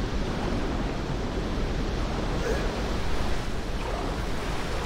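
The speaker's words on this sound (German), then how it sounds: "Mit dem Wasserfall hier kommen wir nicht weiter" Steady roaring rush of a waterfall in the Tomb Raider Legend video game, a dense continuous wash of water noise at constant loudness with no pauses.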